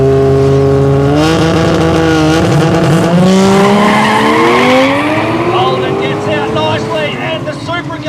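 A Toyota Supra drag races against a Holden Commodore on a no-prep airstrip, loud engines revving and climbing through the gears while tyres squeal in wheelspin, with an announcer talking over the racket.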